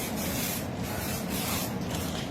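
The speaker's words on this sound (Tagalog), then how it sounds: "I-spray lang natin dito sa plastic wrap natin." Sparkling silver spray paint, code 391701, sprayed from a can onto plastic wrap: a steady close hiss with slight pulsing, continuous throughout with no talking.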